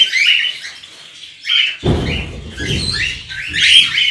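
Cockatiels chirp and squawk in their aviary room, bright repeated calls from several birds with a rough, noisy burst partway through.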